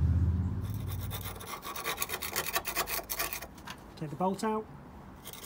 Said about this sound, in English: Gonna scrape this off, clean it all up, and then apply the rust killer to this as well.